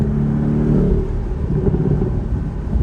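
A 2018 Porsche 718 Boxster with sport exhaust revs up, its deep engine note rising and then settling into a loud, rumbling drone heard close by.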